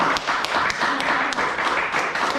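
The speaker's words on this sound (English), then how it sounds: "I think we'll end on that note and with a big round of applause." Audience applause at the end of a talk, steady claps filling the room at close range, with no speech over it.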